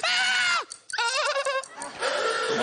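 A voice lets out three exaggerated screams in a row, loud and wavering, imitating horror-film shrieks with brief pauses between them.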